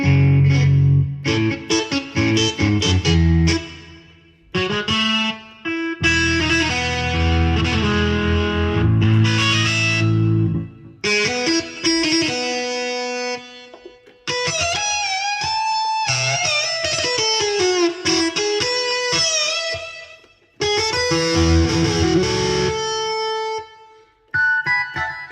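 Electric distortion guitar voice on a Yamaha PSR-S970 keyboard, playing loud, sustained distorted melodic lines and chords with brief pauses between phrases, with no talking.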